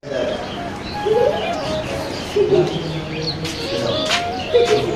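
Soft pigeon cooing indoors in a room where goats are also kept, low repeated calls with a few chirps, mixed with faint background voices, in Chittagong, Bangladesh.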